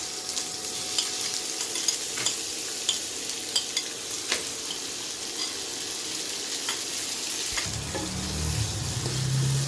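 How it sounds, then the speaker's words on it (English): Chopped tomatoes and a green chili fry in a pan, a steady sizzle broken by repeated light clicks of stirring, with a low rumble entering near the end. "I'm just taking 1 green chili and then the chopped tomatoes go in there."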